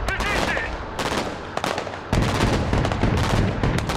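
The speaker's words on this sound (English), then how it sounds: "This is suppression fire." Sustained suppression gunfire in the video game Broken Arrow: dense automatic bursts and rapid shots rattle without pause, loud and close, with a heavier surge of fire partway through.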